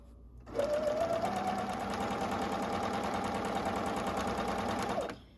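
Sewing machine stitching fabric in one continuous steady run of about four and a half seconds, a close, even mechanical whir that starts and stops abruptly, with no talking.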